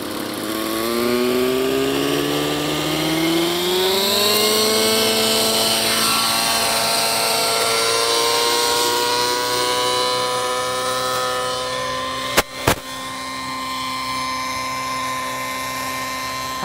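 An RC 3D helicopter flies a loop, its rotor and motor whine rising and falling in pitch as it swings through the manoeuvre, steady and fairly close, with two brief sharp pops near the end.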